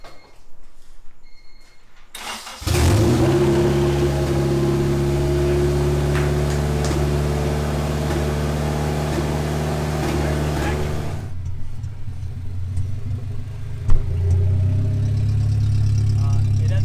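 A Honda CRX with a K-series engine swap cranks and catches, settling into a loud, steady idle close by, then shuts off, with a short knock and muffled noise afterward.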